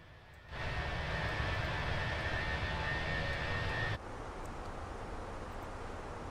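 Simulated Airbus A321 engine noise in Microsoft Flight Simulator 2020 fades up into a steady roaring hum with a high whine, then drops to a lower level partway through, no talking.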